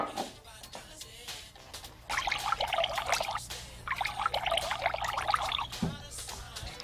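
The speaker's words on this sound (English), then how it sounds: "Pour some water into 2 identical glasses." Water pours in two bursts, trickling and splashing into a glass, with a quiet pause between and a low background hum.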